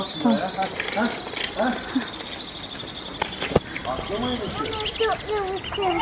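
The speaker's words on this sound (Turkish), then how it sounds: "Kuş ya." Birds chirp and tweet in short bright calls, repeating irregularly, while people talk nearby.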